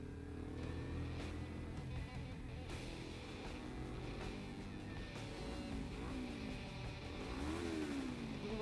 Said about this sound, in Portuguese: Acelerar à noite é legal.